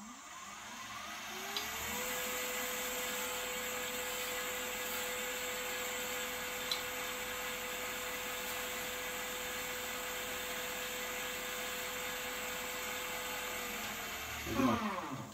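A lathe spinning a bespoke fountain pen barrel spins up into a steady, high-pitched whine that holds for about thirteen seconds before winding down, with faint scraping from the cutting tool and no talking.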